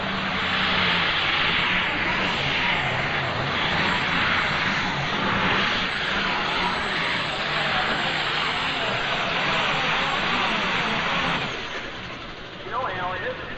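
A Case IH 7130 pulling tractor with a four-turbocharged 436 cubic inch International engine making about 2,400 horsepower, at a 1995 NTPA tractor pull in Fort Recovery; a loud, sustained roaring drone that eases off near the end while an announcer talks over it.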